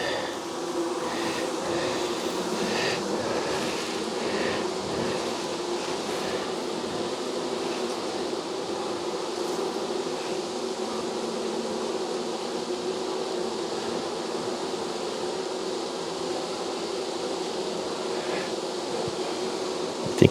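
Honeybees buzzing around an open hive during a late-season colony check in October, a steady dense hum close by with no talking.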